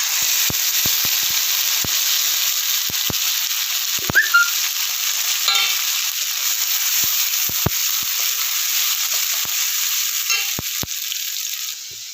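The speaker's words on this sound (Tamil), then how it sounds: "இப்போ அரைச்சி வச்ச தக்காளி சேர்த்துக்கலாம்." Ground tomato frying with onion and garlic in a pan for a dried-fish curry gives off a steady, close sizzle with scattered sharp crackles and pops, and no voices.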